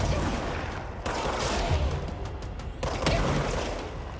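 A shotgun fires in the video game Control, sharp loud blasts amid a rumbling gunfight, with a couple of distinct bursts close by.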